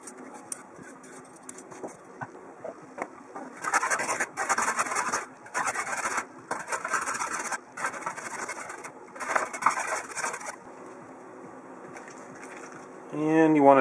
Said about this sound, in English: Cut off the ends, peel it. We're going to grate these up.